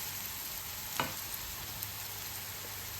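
Onions for pav bhaji fry in a pan with a faint, steady sizzle and one brief scrape of stirring, quiet and unbroken.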